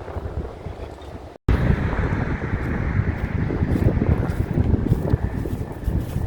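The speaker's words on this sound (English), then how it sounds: "I know it's very noisy and very windy right now" Loud, buffeting wind noise batters the microphone almost continuously outdoors near an abandoned bridge in Philadelphia, a rough low rumble that cuts out briefly near the start.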